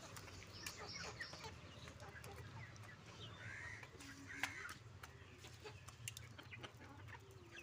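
Farmyard hens cluck and chatter in soft, repeated bursts, fairly faint and a little distant, with light background noise.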